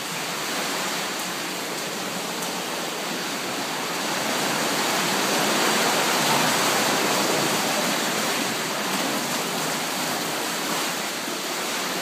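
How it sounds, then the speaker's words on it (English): Ocean waves breaking on the far side of a tall tsunami wall in Japan, near stacked concrete tetrapods, heard as a steady, dense broadband wash of surf that swells slightly midway, with no talk. "I believe there are some pretty good-sized waves back there on the other side."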